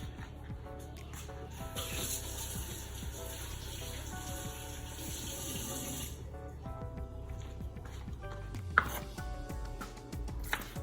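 A knife slices scallions on a cutting board while curry goat and dal are being prepared, giving steady, close chopping taps over a busy kitchen background.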